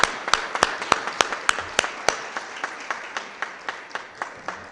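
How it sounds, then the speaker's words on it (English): Applause at a city Board of Aldermen meeting, a small crowd clapping in a brisk steady rhythm that gradually thins and softens over a few seconds. "Let's give Karen a big round of applause."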